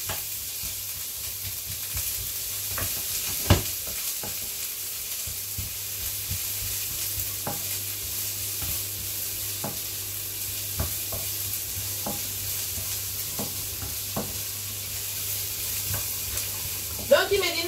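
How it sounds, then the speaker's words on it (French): Onions frying in a pan give a steady, close sizzle, with occasional stirring clicks and scrapes scattered through it. "je grille les oignons et après je reviens"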